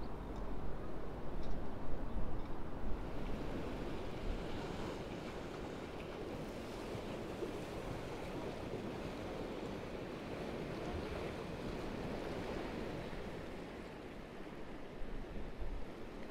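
Stormy sea waves roll in at Porthcawl, Wales, under an overcast sky, a broad continuous roar of surf mixed with gusting wind buffeting the microphone.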